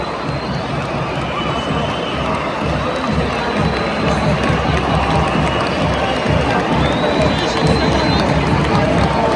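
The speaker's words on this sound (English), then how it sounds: "Even the home fans are applauding that." Home fans in a stadium at a Polish league football match, Pogon Szczecin against Gornik Zabrze, roaring, cheering and applauding after a long-range goal, a dense, loud, continuous crowd wash that never drops for the whole stretch.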